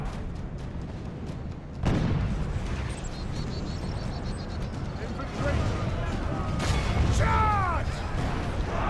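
Cannon artillery fire booms through a Total War battle, heavy low blasts rolling over a constant roar of combat, with shrill whistling projectiles near the end and people talking over the din.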